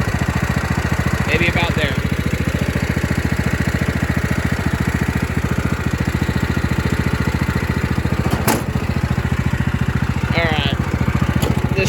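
A 16 HP Kohler Command engine on a 1997 Craftsman tractor runs at a steady, close, buzzing idle, with someone speaking briefly over it and a few metallic clicks.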